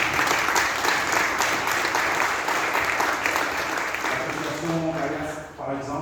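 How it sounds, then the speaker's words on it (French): An audience at a regional political speech claps in a sustained, dense burst that stays loud for several seconds and then fades, with a voice coming in near the end. "Nous pouvons applaudir."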